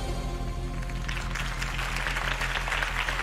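A crowd in Batman: The Telltale Series applauds a campaign speech for Harvey Dent, clapping that swells from faint to a loud continuous patter over a low musical drone.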